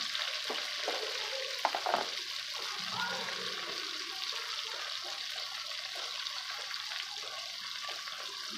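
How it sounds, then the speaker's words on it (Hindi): Pumpkin, tomato and green chilies cooking in a pan, giving a soft steady sizzle with a few scraping stirs of a spoon throughout, fairly faint and without talk. "अब हल्का सा इसको हम बस फ्राई करेंगे"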